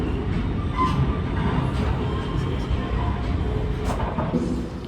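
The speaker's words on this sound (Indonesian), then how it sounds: "perjalanan kereta api Malabar telah tiba di stasiun Madiun" Malabar passenger train pulling into Madiun station, a steady loud rumble of rolling cars and wheels on rails filling the whole stretch, with faint voices mixed in.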